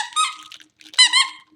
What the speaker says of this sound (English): So we have 3 squeakers.